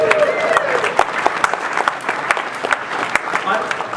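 An audience at a Gilman McDonogh gathering breaks into loud, steady applause, dense overlapping claps filling the space with a few louder individual claps standing out.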